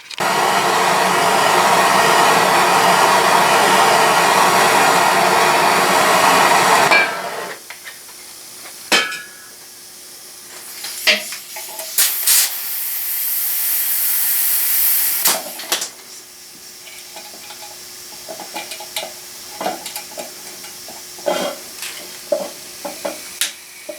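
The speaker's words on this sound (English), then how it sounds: "Now that's a blowtorch." An antique blowtorch roars loudly with a steady hissing flame for several seconds, then cuts down to a quieter hiss broken by scattered pops, clicks and crackles.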